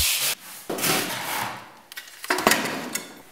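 Old tile adhesive is scraped off a bathroom wall where a bathtub and tiles were removed. Close, harsh rasping strokes come in several uneven bursts, with no talking.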